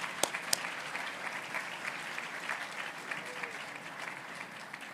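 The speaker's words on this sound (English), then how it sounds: "So join me in a round of applause for all the helpers." Audience at a hospital foundation winter gala claps in a sustained, even round of applause, dense and moderately distant, with a couple of sharp nearby claps near the start.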